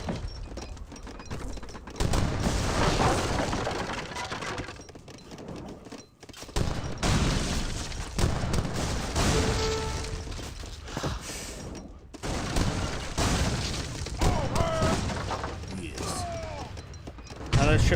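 Culverin cannons in the Age of Empires 3 video game fire a volley, heard as repeated booming blasts and crackling impacts among battle noise, with someone commentating over the action.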